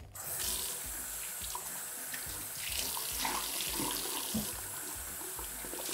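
Water runs steadily from a bathroom sink faucet as a cloth rinses debris from it, a close continuous splashing stream with small shifts as the flow is disturbed.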